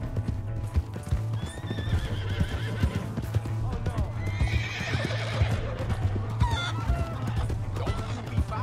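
A horse in the video game Red Dead Redemption 2 whinnies while hooves clip-clop steadily, with chickens clucking in the background and voices talking over the scene.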